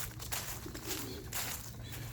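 Young racing pigeons cooing softly inside a loft, a few low throaty coos rising over a faint background rustle, with no talking.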